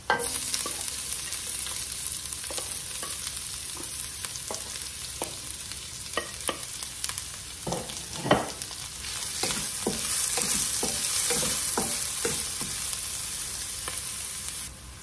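Onions sizzle steadily in a hot pan while cooking goat meat, with repeated scraping stirs clicking and knocking against the pan throughout, close and alone.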